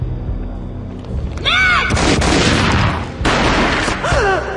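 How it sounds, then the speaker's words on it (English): Gunfire in the video game Max Payne Mobile: booming shots and bursts over a loud dark game soundscape, with whooshing effects between, close and dense. "A gunshot boomed and she fell down in slow motion."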